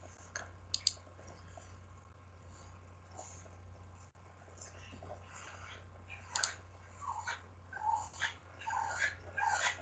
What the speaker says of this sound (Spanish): Perdón, es el perro, ya saben, que se vuelve un poco loco